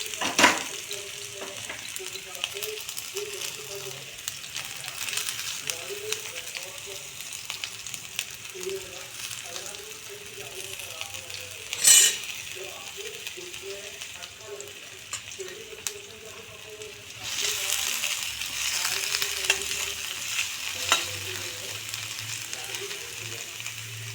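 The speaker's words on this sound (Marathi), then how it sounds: "कांदा मऊ होईपर्यंत आपण त्याला परतून घ्यायचं आहे." Chopped onion with cumin sizzles gently in a pan while being stirred, a soft continuous frying crackle with occasional scrapes, fairly faint and close.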